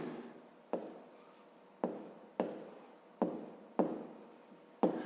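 Pen strokes scratch across paper while a math solution is written out, six or seven distinct strokes each starting with a crisp attack, close and quiet with no talking.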